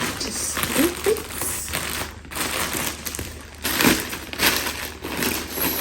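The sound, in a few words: snipping open and unwrapping a parcel package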